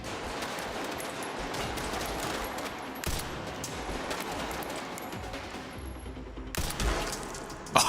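Gunfire in the video game Resident Evil 9 rattles in dense, rapid bursts of shots over several seconds, loud and close. There are brief pauses and a sharper blast near the end.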